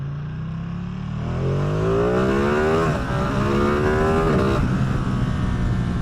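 A Ducati Streetfighter V2 twin-cylinder motorcycle engine revs up from idle, its pitch climbing in steady sweeps, dipping briefly near the middle and rising again, loud and close throughout.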